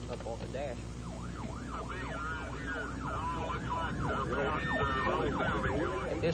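A wailing vehicle siren sweeps up and down repeatedly, loud and close, over steady road rumble and faint voices, during a tornado chase.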